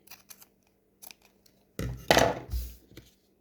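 Scissors cut away excess fabric along the edge of a framed fabric panel, making a few light snips followed by a louder, closer series of crisp cutting crunches. No one speaks.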